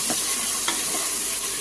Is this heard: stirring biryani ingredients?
yes